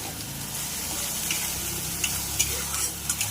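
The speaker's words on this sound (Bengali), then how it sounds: "এবার এর মধ্যে আমি দিয়ে দেবো স্বাদ মতো নুন হলুদ দিয়ে এই মশলাটাকে ভালো করে কষে নেব" Spice paste with salt and turmeric sizzles and fries steadily in hot oil, with occasional sharp stirring scrapes and ticks near the end, close and continuous with no talking.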